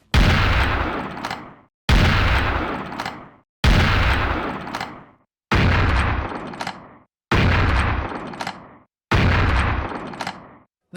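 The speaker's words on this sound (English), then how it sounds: "the firing sound of your double-barreled shotgun is a little different" Six loud, evenly spaced blasts from a double-barreled shotgun in the Serious Sam beta video game, each a sharp boom with a short decaying tail, fired about every two seconds with no talking.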